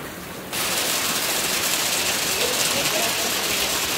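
Heavy rain pours down in Kerala, a dense, steady hiss that surges in abruptly after half a second and stays loud and even to the end.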